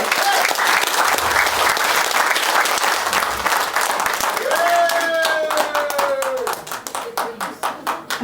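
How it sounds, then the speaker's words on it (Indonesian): An audience at an indoor training event bursts into sustained applause, dense and loud at first, then thinning into scattered individual claps. An amplified voice speaks over the clapping partway through. "Aplaus untuk beliau."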